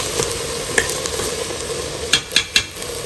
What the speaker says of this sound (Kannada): ಅಕ್ಕಿಯನ್ನು ಕೂಡ ಸ್ವಲ್ಪ ಇದರಲ್ಲಿ ಹುರ್ಕೋಬೇಕು ಎಣ್ಣೆ ಮತ್ತು ತುಪ್ಪ ಹಾಕ್ಕೊಂಡಿದ್ದೀನಿ ನಾನು